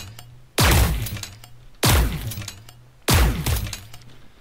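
Two-shot-like blasts from a flak cannon in an indie game, three in all, evenly spaced about 1.2 seconds apart, each a heavy booming crack with a crunchy, shattering decay over a faint low drone.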